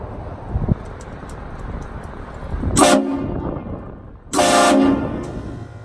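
A train horn mounted on a truck blasts twice near a building: a short loud burst, then a longer sustained blare. Each is strong and close, with echo ringing off the structure over a low background rumble.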